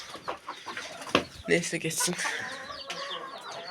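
Hens on a backyard flock cluck and squawk close by in agitated bursts, a brief louder flurry mid-way, with a person speaking over them.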